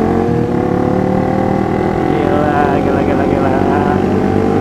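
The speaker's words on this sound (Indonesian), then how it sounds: "Yang gue suka dari ZX itu suaranya guys. Suaranya tuh kayak MotoGP ya." A Kawasaki ZX-25R four-cylinder motorcycle engine revs hard and loud at close range during a Sunday morning group ride in BSD, with a high, dense, continuous howl and shifting pitch, while a voice speaks briefly over it.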